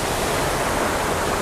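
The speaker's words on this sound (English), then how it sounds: "standing on this rock, right above this little waterfall here" Small waterfall in a rainforest, heard from a rock just above it: a steady, full broadband rush of falling water, close and constant with no breaks.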